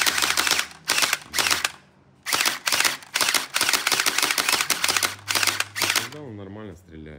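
A children's toy M416 gel-ball blaster fires in rapid repeated bursts of sharp mechanical snaps, close by, followed by a voice speaking at the end.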